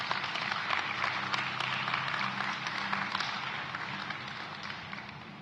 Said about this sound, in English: Let's give him another round of applause and thank him.